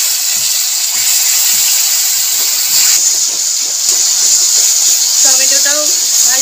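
Tomato paste hisses and sizzles steadily in a pan with fried chilli and ginger paste while a Bengali fish curry is cooked, a close, continuous bright frying sound with a brief voice near the end.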